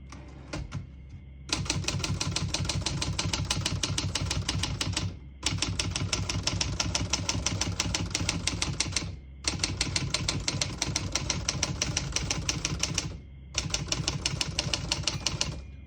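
Rapid, continuous clacking of a 1962 Olivetti Model 21 manual portable typewriter in four long bursts separated by short pauses, crisp and close.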